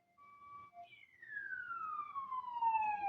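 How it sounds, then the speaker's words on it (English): A siren wails in the distance, its pitch sweeping slowly downward, with faint traffic rumble beneath and no voices. "We've got some sirens in the background."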